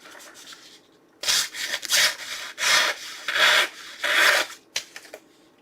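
A Cold Steel SK-5 Recon Tanto knife with a hollow-ground, bead-blasted blade slicing through cardboard, giving a series of about six rough, dragging rasps in uneven bursts separated by short pauses, close and alone.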